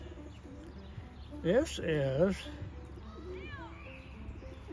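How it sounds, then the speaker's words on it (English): A pigeon coos close by in a short rolling burst of throaty notes partway through, with someone speaking briefly in a quiet room. "Long, nice pigeon."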